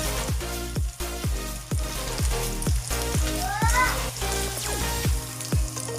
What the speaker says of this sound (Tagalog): igisa lang sa tunga ang sibuyas o ang bawang